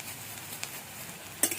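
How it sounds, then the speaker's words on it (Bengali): Chopped onions with ginger sizzle faintly in a frying pan, a steady low hiss with a couple of brief stirring clicks, one near the end. "এবার এটাকে ভালো করে ভেজে নিতে হবে"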